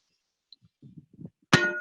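A tamper strikes a compacted earthbag in an earthbag wall. Several soft, dull thumps come first, then one sharp, loud, bright ringing impact that decays briefly.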